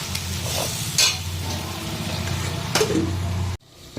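Potatoes and pointed gourd sautéing in spices with a splash of water, a steady close sizzle with bursts of stirring and scraping, cutting off abruptly near the end.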